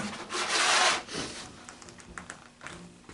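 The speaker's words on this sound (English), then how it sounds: "And I'm going to cut that strip." A blade slices a strip of paper or board for a small handmade book. A broad rasping stroke comes up close, followed by softer scraping and a few light taps, with no voices.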